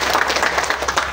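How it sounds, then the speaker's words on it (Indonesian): An audience at a youth organization launch event in Kupang, Indonesia, claps continuously in a dense, steady wash of applause that fills the whole moment without any voices over it. "kita tepuk tangan buat beliau berdua"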